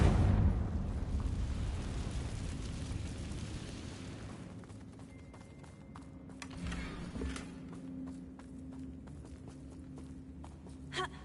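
A Confringo blasting spell in Hogwarts Legacy goes off as a single loud burst that rumbles and decays over several seconds, followed by scattered debris clatter and faint crackling.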